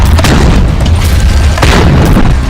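Cheap ground-launched rockets fired by Hamas fighters, heard as a continuous loud, close roaring blast with heavy low rumble and a second surge partway through, no voices.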